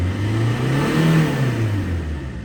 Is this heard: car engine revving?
yes